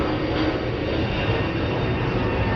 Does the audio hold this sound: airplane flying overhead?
yes